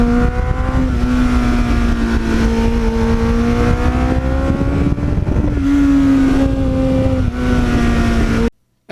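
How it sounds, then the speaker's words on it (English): A 1980s Kawasaki GPX750R Ninja sport motorcycle with a Muzzy aftermarket muffler revs loudly through its gears, the engine note climbing and then dropping at each shift, close and continuous before cutting off abruptly. "with the sound of that Muzzy muffler, all you want to do is just go through the gears"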